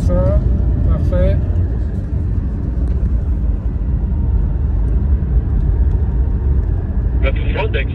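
Porsche race car cornering on a circuit, a steady loud engine drone throughout with brief higher tonal whines near the start and end, a voice speaking over it at moments.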